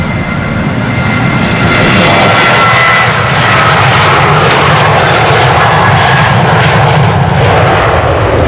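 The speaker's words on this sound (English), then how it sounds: "we're expecting a short takeoff for this one." A jet airliner taking off from runway 36L at Amsterdam Schiphol Airport, its engines roaring loud and close in a sustained, powerful rumble that holds for the whole stretch without any talk.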